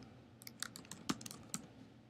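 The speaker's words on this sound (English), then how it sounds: "So I need to type something here to get it to activate." Quiet typing on a computer keyboard, a short run of a dozen or so light key taps in an uneven rhythm, close by, no talking.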